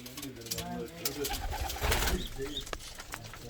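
Bulgarian Bango pigeons coo softly in a coop, low burbling calls repeating near and faint beneath a voice talking over them.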